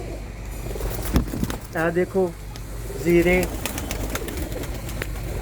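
Shahjahani pigeons coo in a few soft bursts close by, broken up by someone speaking over them.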